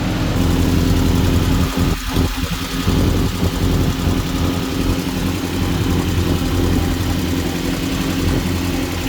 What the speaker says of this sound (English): I think there is still an exhaust leak a little bit, but definitely not as bad as the first start